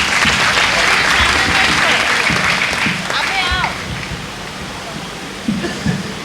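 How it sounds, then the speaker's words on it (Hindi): Enthusiastic crowd applause at a Birsa Munda birth anniversary ceremony, Tribal Pride Day celebration in Andaman, loud and steady clapping that thins slightly toward the end, with faint voices mixed in. "जोरदार ताली"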